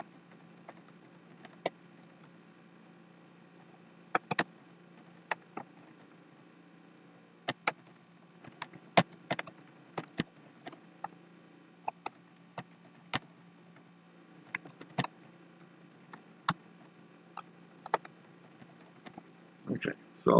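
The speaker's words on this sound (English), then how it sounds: "so I'll type everything in here" Keys clacking on a computer keyboard while code is typed into a compiler, in irregular bursts of sharp clicks with pauses between, close and fairly quiet over a low steady room hum.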